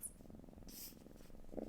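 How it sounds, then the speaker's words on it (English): A pet cat purrs close by, a steady, rhythmic low rumble that continues throughout with no voices. "Here's my kitty cat right here with me, purring and happy."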